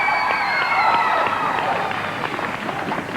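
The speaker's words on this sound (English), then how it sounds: "big round of applause for our host" A studio audience on the 1989 Nickelodeon game show Total Panic applauds and cheers for the host, a dense wash of clapping and whoops that fades slightly but keeps going.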